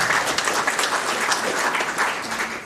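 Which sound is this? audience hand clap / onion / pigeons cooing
audience hand clap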